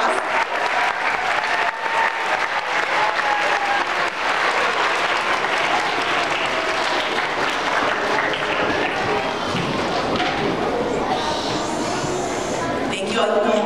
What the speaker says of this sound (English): Let's give one big round of applause